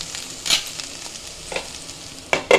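Kundri (ivy gourd) frying in a covered pan, a soft continuous sizzle broken by a few sharp spatula scrapes and clinks, the loudest bursts near the end.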